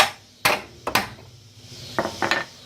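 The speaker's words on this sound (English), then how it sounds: "I'm gonna go ahead and use my hammer and smack that bolt out" Hammer striking a bolt out of the rear lower control arm on a 1968 Ford Thunderbird, five sharp metallic blows: two spaced hits, then a pause, then three quicker ones close by.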